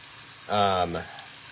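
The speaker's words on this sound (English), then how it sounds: "I'm searing my very large piece of meat here" A very large pot roast sears in a hot pan beside onion and garlic, giving a short loud burst of sizzling that rises suddenly, holds for about half a second, then fades back to a low hiss.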